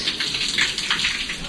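Water pours from a bull's mouth spout inside a temple cave, a continuous splashing, hissing flow heard close and fairly loud, with no one speaking over it.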